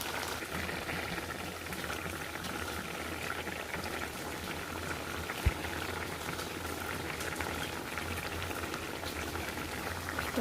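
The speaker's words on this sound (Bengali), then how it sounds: "এই তো আমার ইলিশ মাছ এবং বেগুনের মধ্যে বলক চলে আসছে" Hilsa fish and eggplant curry bubbling at a steady boil in a pot, a continuous close, even simmering burble with no talk.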